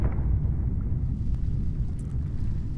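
A plug dome volcano with thick magma erupts in the Tinybop The Earth app, a low, muffled rumbling boom that stays steady and moderately loud without a sharp bang.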